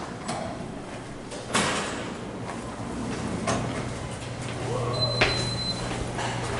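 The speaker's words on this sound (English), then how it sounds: "here are the elevators in this building" Otis elevator doors at Disney's Art of Animation Resort slide along a track with soft thumps and rolling noise over a steady machine hum, followed by a brief high chime.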